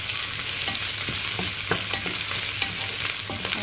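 Garlic and ginger paste fries in a pan with a steady, close sizzle and occasional light stirring scrapes throughout.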